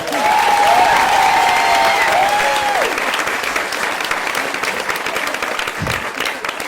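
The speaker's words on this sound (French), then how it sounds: "propose qu'on applaudisse Julien." Stand-up comedy crowd applauding a man named Julien, a loud sustained ovation of dense clapping, with a voice briefly rising over it at the start before the clapping continues alone and slowly thins.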